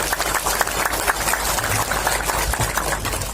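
Sustained audience applause for a volunteer campaign team at a formal public gathering: dense, steady clapping that fills the whole stretch, with no clear talk over it.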